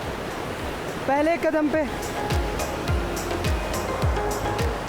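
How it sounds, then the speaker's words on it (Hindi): Fast glacier meltwater rushes past near Fairy Meadows base camp as a steady, loud broadband roar. A person speaks briefly over it. "ये जो ग्लेशियर्स का पानी बह रहा है ये बहुत ही तेज़ी से यहाँ से गुजरता है।"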